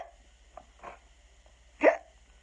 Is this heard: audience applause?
no